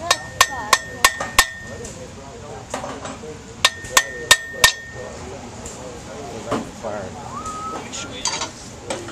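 Hammer blows on hot metal at a blacksmith school in Genoa, Nebraska: quick bursts of four or five sharp ringing strikes separated by pauses, with people talking faintly in the background.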